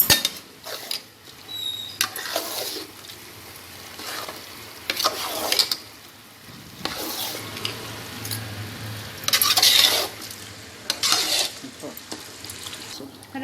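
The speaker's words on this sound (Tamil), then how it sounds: "இப்போ நம்ம தக்காளி போட்டுக்கலாம். நல்லா மிக்ஸ் பண்ணிக்கலாம்." Tomatoes being stirred into mutton biryani cooking in a pot, with a constant soft sizzle and repeated close scraping and clinking of a spoon against the pan.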